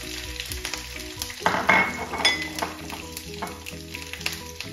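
Shark puttu (sura varai) frying in oil with mustard seeds, fennel, garlic and green chili: a loud sizzling burst flares up midway over steady crackling, with light metallic clinks of stirring and no voices.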